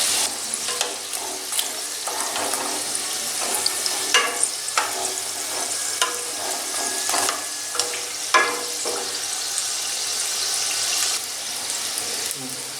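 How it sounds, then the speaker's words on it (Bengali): Homemade chicken samosas fry in hot oil over lowered heat, a steady crackling sizzle with bursts of popping and occasional utensil clinks as they are turned. "এবার আমি সামোসাগুলো আস্তে আস্তে উল্টে দিচ্ছি"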